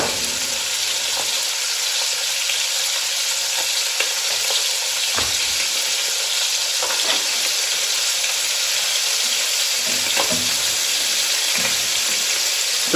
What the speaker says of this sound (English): So all of this is nicely sauteed, meaning the onions in this case